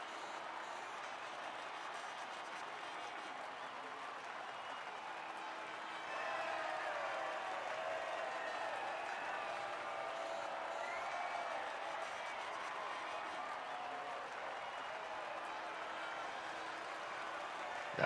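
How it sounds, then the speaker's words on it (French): A large crowd at the end of the Abu Dhabi Formula 1 season finale roars and applauds in a steady, distant wash of cheering and clapping that swells slightly midway, fairly faint throughout. "La foule en délire."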